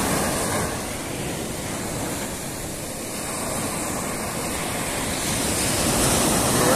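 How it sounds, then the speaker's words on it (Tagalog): Large sea waves wash and roar continuously, a broad steady surf noise with wind buffeting the microphone, no voices present. "Medyo malalaki pa rin ang alon na mga kapatid ako."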